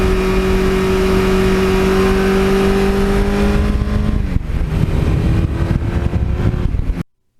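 A 1982 Suzuki GS1100E motorcycle engine winds up through the gears, a loud, close, continuous roar that climbs in pitch, drops briefly at a shift, then pulls again before stopping abruptly.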